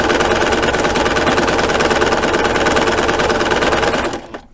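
A sewing machine runs a steady, fast stitch while sewing an apron, loud and close with a continuous buzzing drone, stopping abruptly at the very end; no speech.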